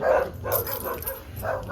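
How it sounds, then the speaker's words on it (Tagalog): Several dogs barking in bursts nearby, loud and repeated, with yips mixed in and no voices over them. "maingay yung mga aso dyan"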